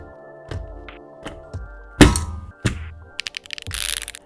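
Sharp clacks and thuds of custom mechanical keyboards being struck hard, a scattered series of loud hits followed by a quick burst of rapid typing at the end.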